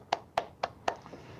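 Four slow, evenly spaced hand claps, close and crisp, then a couple of fainter ones, offered as encouragement for students facing their college entrance exam.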